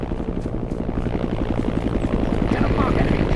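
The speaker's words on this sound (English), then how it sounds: "10 o'clock, enemy chopper at 200 meters." A helicopter in the video game ArmA drones steadily with a rhythmic rotor chop, loud and continuous throughout.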